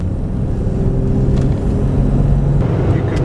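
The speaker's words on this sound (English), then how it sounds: "the speed gets up, there is actually quite a lot of wind noise in the car." Steady wind and road rumble fill the cabin of a 1996 Jeep Cherokee XJ 4.0 Limited while driving at speed, a continuous low roar with no talk.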